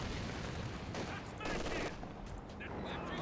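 Bursts of MG42 machine gun fire in the Company of Heroes 2 World War II strategy game, dense rapid crackle running through the whole stretch amid battle noise, with faint commentary in the background.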